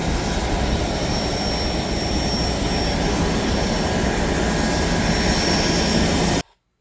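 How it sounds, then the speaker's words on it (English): Turboprop engines of a Fairchild SA-227 Metroliner drone loudly and steadily at close range, a continuous whine and roar that cuts off abruptly at the end. "Here we have our plane for the day, this beautiful SA-227 Metroliner."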